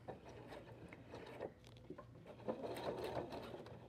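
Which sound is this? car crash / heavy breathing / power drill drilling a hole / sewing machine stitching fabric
sewing machine stitching fabric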